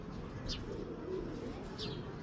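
Soft, low pigeon cooing repeats a few times against a steady, noisy background hum.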